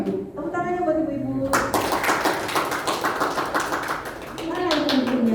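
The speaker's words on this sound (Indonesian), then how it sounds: "Tepuk tangannya buat ibu-ibu." A church congregation applauds the mothers, a dense run of hand claps starting abruptly after a voice and continuing steadily for several seconds, with speech resuming over the fading clapping near the end.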